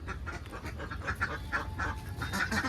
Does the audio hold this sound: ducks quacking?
yes